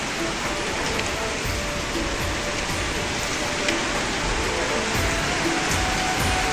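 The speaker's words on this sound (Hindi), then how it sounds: "अभी बज रहे हैं दोपहर के 2 और इतनी तेज बारिश हो रही है" Heavy afternoon rain pours down in a dense, steady hiss that fills the whole stretch, loud and close, with faint talk buried underneath.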